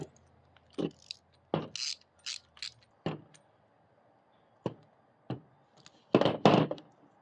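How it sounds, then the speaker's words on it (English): Metal tool clicks and clunks while a through bolt is worked out of a Coleman B200 generator housing, as in a lever repair; several short, sharp, close knocks come in scattered bursts, with a louder rattling cluster near the end. "I'm just going to try to take this through bolt out real quick"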